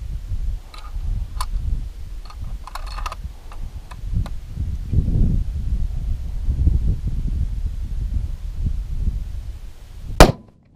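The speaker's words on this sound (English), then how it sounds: "We'll be shooting a Federal 180 grain bullet, and we're going to be testing the KDE Customs T-REC Muzzle Brake." A single sharp crack of a 300 Win Mag rifle firing a Federal 180 grain bullet through a KDE Customs T-REC muzzle brake comes near the end, after a stretch of quiet handling clicks and low outdoor rumble.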